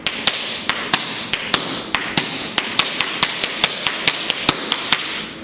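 Fast tap dance flap steps ring out as crisp, evenly spaced metallic taps from the ball of the foot, about three per second, loud and close with no talking.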